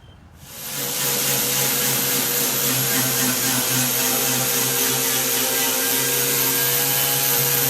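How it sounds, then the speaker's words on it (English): A steady, loud mechanical whir of a power tool wire brush sanding a Ford F-150 Raptor's truck bed liner, starting abruptly and running continuously without pause. "just completely sand the whole truck with the wire brush"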